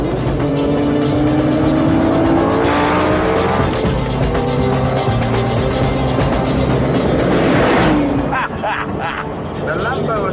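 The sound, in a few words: Lamborghini, Porsche and Aston Martin racing on track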